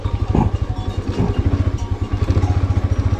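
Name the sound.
motorcycle riding on a road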